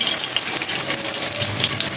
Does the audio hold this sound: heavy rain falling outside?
yes